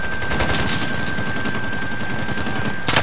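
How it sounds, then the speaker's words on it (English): Sniper and automatic gunfire in the online shooter Call of Duty Warzone (Modern Warfare), dense crackling shots filling the whole span with a sharper burst near the end, no talk. "Someone's sniping me."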